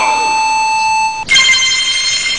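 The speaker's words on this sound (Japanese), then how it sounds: "目覚まし鳴った。" An alarm clock rings on a bedroom morning in Japan: a steady electronic tone sounds loud and close for about a second, then shifts abruptly into a brighter, denser ringing that continues to the end, with no talking.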